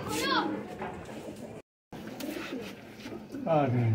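Pigeons cooing in a breeding pair, including a hen ready to pair, give soft repeated coos close by, with a brief gap of silence midway and a fuller burst near the end.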